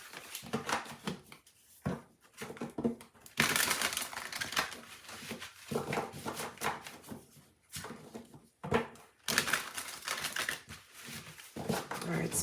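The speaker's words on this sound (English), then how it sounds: "as I shuffle the deck" Tarot cards riffled and shuffled in repeated bursts, crisp flurries separated by short pauses, close to the listener, with a voice speaking softly in between.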